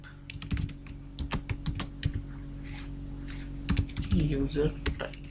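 PHP code is typed on a computer keyboard in quick, uneven bursts of close key clicks, while someone speaks quietly partway through.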